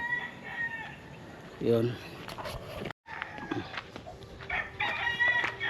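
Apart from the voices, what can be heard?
chickens crowing and clucking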